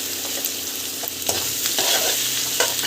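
Vegetables sautéing in a pan with salt and asafoetida, a steady close sizzle broken by repeated scraping stirs of a spoon against the pan, with no voices.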